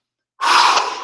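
A single deep, breathy inhale through the nose during a qigong breathing exercise, starting abruptly after a moment of silence, close and fairly loud, with no talking.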